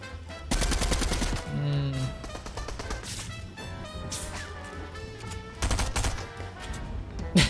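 Bursts of rapid gunfire from a game weapon, loud and punchy, coming in clusters separated by quieter stretches with music and effects underneath.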